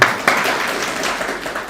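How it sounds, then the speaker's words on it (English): Audience applause at a live mediation seminar, a brief, steady patter of clapping filling the room for under two seconds. "May we give a clap?"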